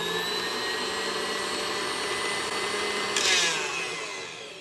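Electric mixer whipping buttercream frosting, a steady high motor whine held for several seconds, briefly rising in pitch before winding down.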